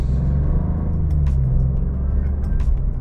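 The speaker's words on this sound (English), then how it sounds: "Let's give a little gas in GT mode." A 2024 Maserati GranTurismo Modena with a 483-horsepower V6 accelerates in GT mode, a deep steady engine rumble heard from inside the car, loud and continuous with faint clicks over it.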